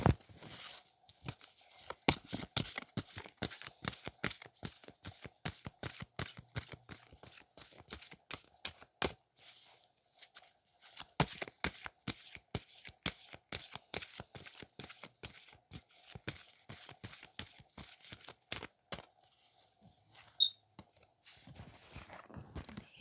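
Oracle cards shuffled close up in a quiet ASMR setting: a long run of crisp, rapid card flicks and slaps in bursts, with brief pauses between runs and no talking.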